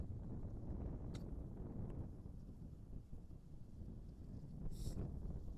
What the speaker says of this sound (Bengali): খুব ঠান্ডা হাওয়া চলছে